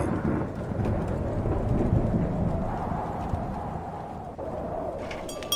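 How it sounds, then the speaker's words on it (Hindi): Cartoon storm effects: steady rain hiss with low thunder rumbling continuously beneath it. The level stays moderate and even, with a faint rumble roll partway through and no voices. "ऊपर आसमान में लगातार बिजली कड़क रही थी।"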